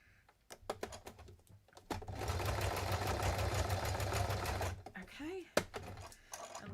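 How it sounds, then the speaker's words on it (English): Sewing machine stitching along the folded side of a handmade card, a steady mechanical whir with rapid needle ticking for about three seconds, preceded and followed by separate clicks and handling noises, close and moderately quiet. "then I am also going to sew the side that I folded"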